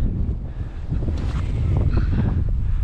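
Strong wind buffets the microphone outdoors in northern Michigan in a steady, low rumbling roar, with faint water movement beneath it and no voices.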